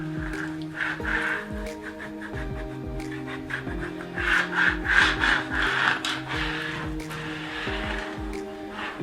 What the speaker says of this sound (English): We scrape that end down very well.